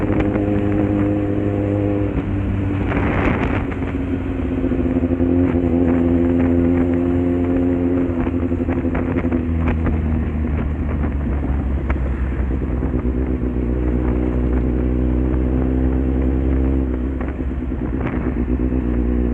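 A Kawasaki Z800 motorcycle is ridden to work in the morning, its engine droning steadily and loudly throughout with shifting pitch as it accelerates and revs, mixed with wind buffeting.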